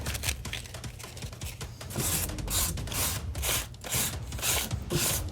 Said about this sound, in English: So again, you just shape it with the sandpaper.